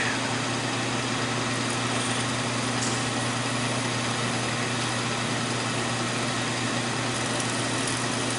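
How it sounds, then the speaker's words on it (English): A steady, high-pitched motorized whine runs continuously, like a power drill boring a hole in a carburetor attachment plate, with a constant low hum underneath and no talking. "Let's try to drill another hole here."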